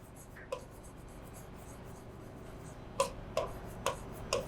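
Chalk or marker writing on a board during a Hindi accounting lesson on debentures: faint scratching early, then a run of four brief strokes a second or so apart, fairly close and alone without talk.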